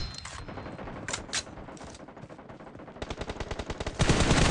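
Shotgun blasts in PUBG Mobile team deathmatch, a rapid run of sharp bursts building in density and growing louder toward the end, with no talk.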